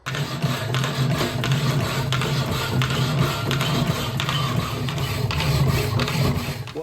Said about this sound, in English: this is that Toledo hacksaw that I picked up a couple of days before that